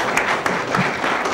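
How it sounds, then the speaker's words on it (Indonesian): Studio audience at a comedy talk show clapping on cue, a short, loud patter of hands with a few distinct claps standing out. "Tepuk tangan dulu."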